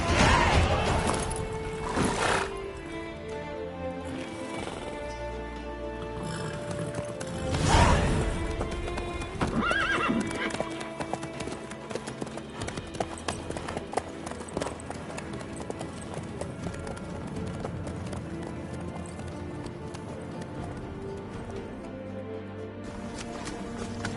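Horse hooves clip-clopping steadily in The Witcher 3 on PS5, nearby and continuous under layered game music and ambience, with a louder crash-like burst near the start and another around eight seconds; no clear neigh stands out.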